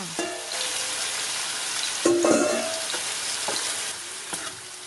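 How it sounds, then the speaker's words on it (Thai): Red curry paste is stir-fried with roast duck and basil, making a loud, crackling sizzle with sharp spatula scrapes and a brief burst of stronger hissing midway. There is no talking. "ผัดต่อคลุกเคล้าและปิดแก๊สได้เลยค่ะ"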